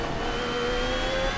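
A Formula 1 car engine in a racing video game screams at high revs as it accelerates with DRS open, a loud, continuous whine climbing steadily in pitch with no talking.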